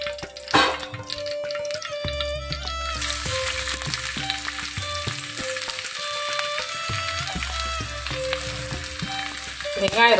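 An egg omelette sizzles and fries steadily in a pan in a home kitchen, with brief stirring and clinking of utensils near the start.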